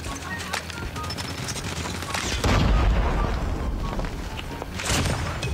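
Loud gunfire and explosive blasts from a mobile shooter game, with a heavy boom building in the middle amid continuous rapid shots and bursts.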